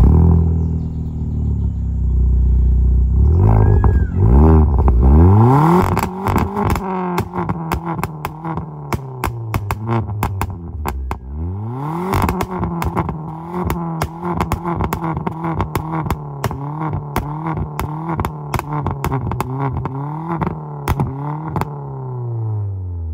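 Modified VW Polo GT, stage 2 tuned, with a Borla Valvetronic cat-back exhaust and straight pipes, revved repeatedly: loud rising and falling engine sweeps, sharp blips and crackling pops, nearby and alone.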